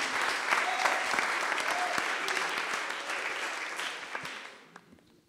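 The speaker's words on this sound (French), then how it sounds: "On applaudit un peu plus là quand même." Sustained applause from a crowd, dense and steady clapping that fades out near the end.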